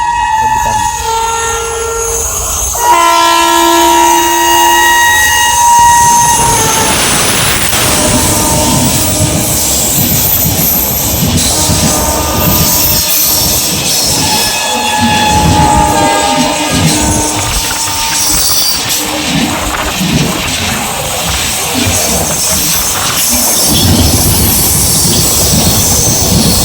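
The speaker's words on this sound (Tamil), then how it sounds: "கேட்குற சவுண்டு ஒரு ட்ரெயின் வருது." An express train approaches with a long horn blast, then rumbles past loudly with clattering wheels and screeching metal that continues to the end.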